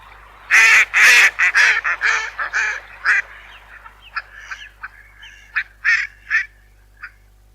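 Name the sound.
ducks quacking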